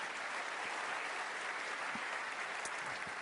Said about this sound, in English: Please, again, a round of applause for Greg and Craig.